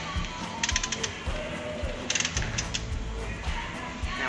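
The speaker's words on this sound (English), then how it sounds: "So that's how you go ahead and torque all these rocker arms down." A ratchet torque wrench clicks in quick bursts, tightening rocker arms on an LS engine being swapped into a Chevy C10 pickup, with close, crisp pawl ratcheting repeated in short runs.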